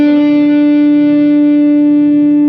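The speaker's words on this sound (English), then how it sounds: "with the volume halfway down, I got much more bluesy sound, more crunchy, rather than big solo distortion." An electric guitar through a Ratin Blue Angel Enrico Pinna signature pedal, with the guitar volume halfway down for a crunchy, bluesy rather than heavily distorted tone, holds one steady sustained note that rings loud and close for the whole moment.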